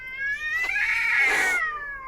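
A cat in an alley lets out a long, wavering caterwaul that rises into a harsh, strained yowl and then tapers off, loud and close with no talk.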